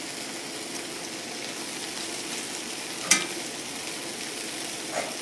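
Cooked ramen noodles and a beef seasoning packet stirred in a hot pan give a faint, steady sizzle throughout, broken by one brief clink of the utensil against the pan partway through.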